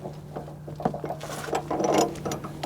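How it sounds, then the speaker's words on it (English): A metal chain on a weight distributing trailer hitch slides through the tongue bracket, giving irregular clinks, rattles and scraping knocks up close, with a brief louder clank partway through. "Now we've got the chain through the bracket for the tongue and sliding it over there"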